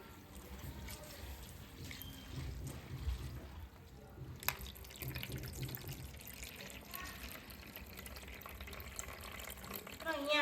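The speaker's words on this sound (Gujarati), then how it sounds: "તેને આપણે એકવાર પાણીથી ધોઈ લઈશું." Sago pearls are washed with water in a kitchen: faint running, trickling and sloshing water continues for about ten seconds, with a brief clink midway, low and close, with no talk.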